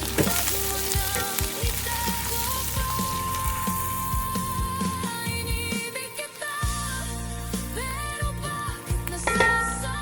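Minced garlic and chili frying in a pan crackle and sizzle steadily, with light clinks, under a layer of background music.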